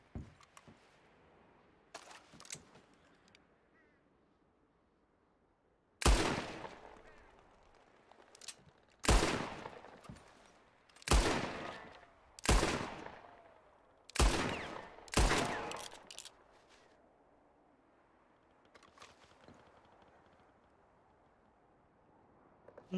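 Gunshots in Red Dead Redemption 2, six loud sharp reports spaced a second or two apart, each with a short ringing decay, surrounded by quieter game ambience and a few faint clicks.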